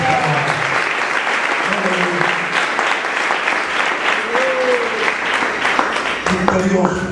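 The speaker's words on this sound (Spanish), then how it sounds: "Den esa ofrenda de palmas." A church congregation breaks into sustained applause during a sermon, a dense wash of many hands clapping throughout with voices mixed in.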